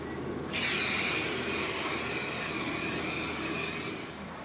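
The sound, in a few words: aerosol spray paint spraying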